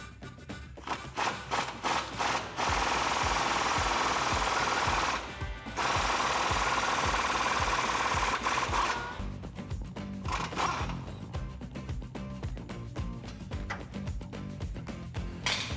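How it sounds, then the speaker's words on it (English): Pneumatic impact wrench with a socket pressing a heavy-duty ball joint out of a Jeep Wrangler JK axle, giving loud rapid hammering bursts with short pauses, close up and without talk. "I'm gonna use an impact just to make it a lot faster."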